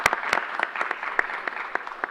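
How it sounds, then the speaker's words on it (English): Scattered applause from a small gathered crowd at the launch of a COVID-19 booster vaccine site in the Bronx, loose individual claps spread unevenly over a couple of seconds, moderately loud and close. "we should continue to give them a round of applause"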